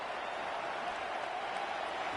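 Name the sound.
stadium crowd noise in Madden 26 video game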